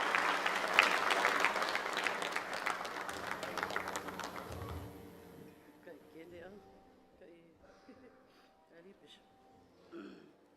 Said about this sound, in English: How about a big round of applause to welcome Dr.